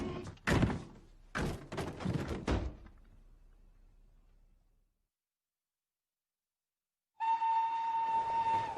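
At a station with a train bound for London, a few heavy thunks like carriage doors slamming fade into silence, followed by a loud, steady whistle tone from the train.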